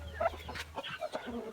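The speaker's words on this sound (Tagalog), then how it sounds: "So ito naman yung pabo ko, no? Turkey." A farmyard turkey of unknown breed makes a short, throaty burst of gobbling and clucking calls, close and moderately loud, lasting only a moment.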